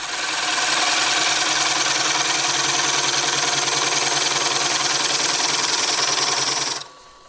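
A bowl gouge cuts the inside of a large, very thin wooden bowl spinning on a lathe, making a loud, steady whirring scrape with a humming drone that cuts off abruptly near the end.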